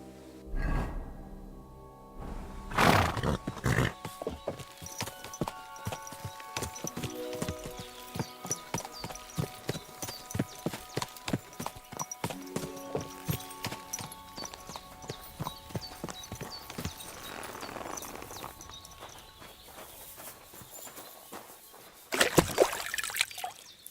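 Horse hooves clip-clop at a steady walking rhythm in the medieval game Kingdom Come: Deliverance II, with a trickle of water beneath and a brief neigh or snort near the start and again near the end.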